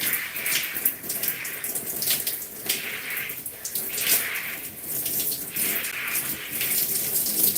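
Water runs steadily from a tap into a sink, warming up during a hair wash day, with a continuous loud splashing hiss and no talking.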